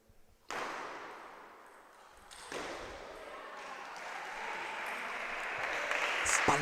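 A crowd applauds at a table tennis match, bursting suddenly into steady clapping that dips briefly and then swells again, with a ball ping and faint voices underneath.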